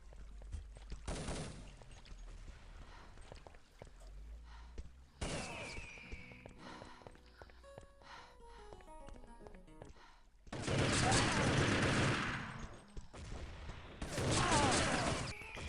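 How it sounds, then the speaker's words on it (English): Gunfire in a competitive first-person shooter match comes in several loud bursts of rapid shots separated by quieter stretches of game sound. "Very nice headshot there in the end for Babu"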